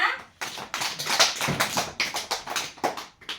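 Children clap together in a classroom, a rapid, loud run of overlapping claps that starts sharply and continues steadily, with a few quick bursts standing out near the end.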